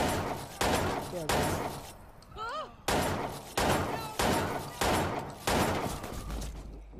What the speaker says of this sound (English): Getting shot at by someone.